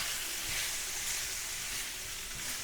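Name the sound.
mixing samosa filling in a pan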